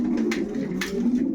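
Pigeons coo softly in a loft while the birds are being paired for breeding, a steady low murmuring hum running continuously under faint higher rustles.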